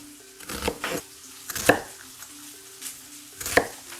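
Half a yellow onion being chopped on a board with a knife: a few separate knocking strokes in small bursts, close and clear against a quiet low hum, with pauses between the cuts.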